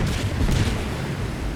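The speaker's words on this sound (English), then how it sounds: "Ashanti kept firing on the German destroyer" Heavy naval gunfire from a destroyer shelling a German destroyer, a dense rolling barrage of booms and rumbles, loud and continuous with no distinct pauses.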